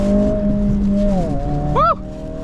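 A car engine revs hard while driving, its steady drone rising and dipping in pitch under a sharp whooping shout near the end.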